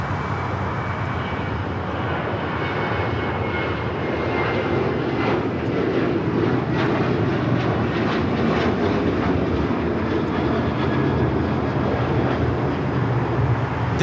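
American Airlines Boeing 737-800 taking off from LAX, a loud sustained jet engine roar with a rumbling low end and hissing upper whine, holding steady and close throughout without talk.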